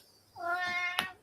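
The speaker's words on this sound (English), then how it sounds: "Shut up, cat." A house cat gives a single drawn-out meow, close and fairly clear, rising then falling, followed by a short click in an otherwise quiet room.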